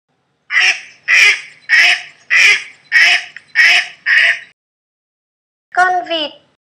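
A duck quacks seven times in a steady, evenly spaced run, loud and close, followed after a pause by a short spoken voice.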